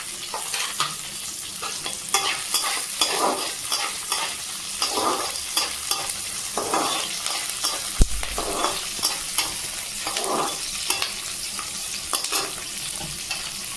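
Chopped capsicum and chilli pieces fry in a pan for Maggi noodles, a constant close hiss with rhythmic scraping and stirring strokes repeating throughout.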